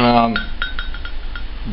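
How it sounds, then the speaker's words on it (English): A glass blender attachment for a Kenwood Chef A701A mixer is handled, giving several light glassy clinks and taps spaced through the clip, with a voice speaking briefly at the start. "I got one of these for it, which is a glass"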